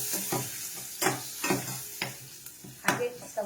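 Mustard seeds, asafoetida and curry leaves sizzle and crackle in hot oil in a home kitchen, with sharp popping bursts and stirring scrapes at an irregular rhythm, close and moderately loud.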